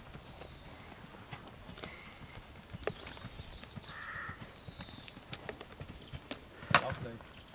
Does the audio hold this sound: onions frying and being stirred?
no